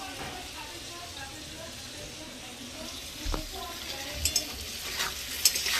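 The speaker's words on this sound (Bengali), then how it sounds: "চলো আলুগুলোকে এখন ভেজে নেব" Potatoes frying in a home kitchen pan give a low continuous sizzle with a few clinks and stirring knocks toward the end, quiet and close, under intermittent talk.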